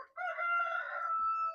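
A rooster on a small farm crows once, close and clear, a long drawn-out call that trails off, with faint clucking from the flock after it.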